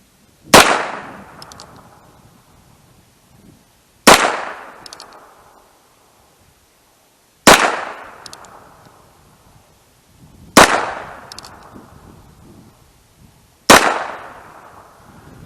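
Five single shots from a Heritage Barkeep .22 LR revolver at an outdoor range, sharp cracks spaced about three seconds apart, each trailing off in a brief echo, no talking.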